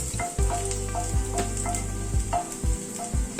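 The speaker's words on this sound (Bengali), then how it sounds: "রসুনটাকে হালকা করে ভাজছি" Chopped garlic fries in hot oil over a medium gas flame, giving a continuous crackling sizzle broken by soft, regular thumps of stirring.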